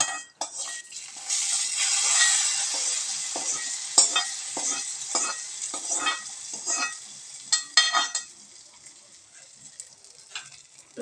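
Hot tempering for beetroot pachadi is poured into the dish and sizzles, a rising hiss followed by scattered clinks and stirring noises that fade toward the end, with no talking.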